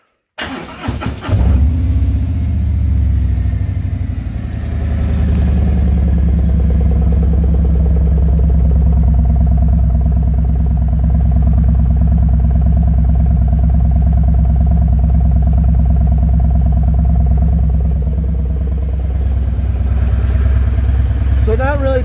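A 2020 Harley-Davidson FLHTK with a Stage 1 upgrade starts up and runs at a loud, steady idle close by, its deep rumble holding constant for about twenty seconds with no talk over it.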